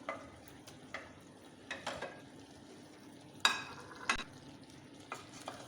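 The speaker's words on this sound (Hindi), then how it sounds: "अब टमाटर को डाल के मैं अच्छी तरीके से इसको हल करूँगी और थोड़ा सा फ्लेम को तेज़ करूँगी" Minced meat and chopped tomatoes stirred in a hot pan, with a faint sizzle and scattered spoon scrapes and taps against the pot, quiet and close.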